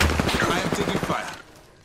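Gunfire in the video game Apex Legends comes as a loud, rapid burst of close shots that fades out after about a second, with game voice lines mixed in.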